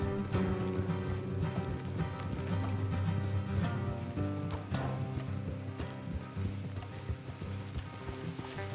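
Horse hooves clip-clopping in Red Dead Redemption 2, a steady rhythmic trot of several horses on a road, heard over a musical score at moderate level without speech.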